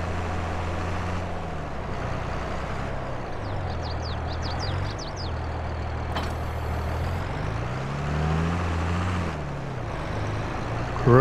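A wheel loader engine in Farming Simulator 22 drones steadily nearby, its pitch rising and falling as it revs, with faint bird chirps briefly in the background.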